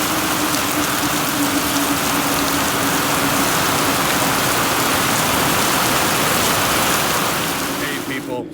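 Heavy rain pours steadily outdoors at a scream park, a dense, loud, unbroken hiss of drops drumming on surfaces that keeps going for several seconds before easing slightly at the end.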